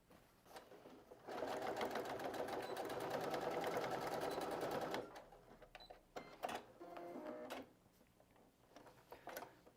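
A sewing machine stitching bias binding around the corners of a pencil case runs in a steady, rapid mechanical rattle for several seconds, then stops, followed by scattered clicks and handling sounds.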